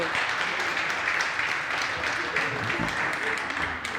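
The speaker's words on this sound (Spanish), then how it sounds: "por supuesto un aplauso para Esther que está junto a nosotros a esta hora de la tarde." An audience at a talk on focused transparency and gender perspective gives a round of steady, moderately quiet applause, with murmured voices beneath the clapping.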